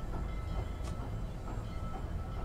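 A moving train in the video game Human Fall Flat gives a steady low rumble throughout, faint and continuous, with no voices over it.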